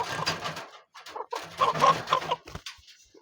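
Close, loud clucking and throaty calls from a large rooster on a poultry farm, in irregular bursts with short pauses between them.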